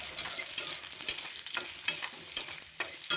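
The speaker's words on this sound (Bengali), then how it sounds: "তো প্রথমে এখানে কড়াইতে তেল দিয়ে তেলটা গরম হওয়া পর্যন্ত আমরা এখানে আলুটা ভেজে নেব।" Potatoes frying in hot oil in a kadai, a steady crackling sizzle broken by repeated sharp scraping strokes of a spatula stirring, close and moderately loud, with no talk.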